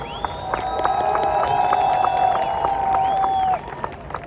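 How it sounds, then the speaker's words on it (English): A large outdoor crowd at a symphony concert on the waterfront by the Empress and the causeway cheers loudly and continuously, with shouts and whistles rising over sustained roaring applause before easing near the end. "Can you please cheer as loud as you can to make sure that these amazing musicians can hear you?"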